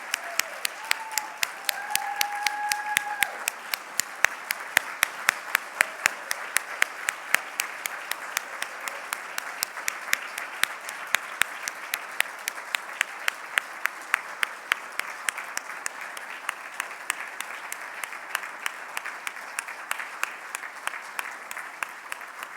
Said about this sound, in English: please let's give another round of applause for all of our this year's Hall of Fame and Special Recognition inductees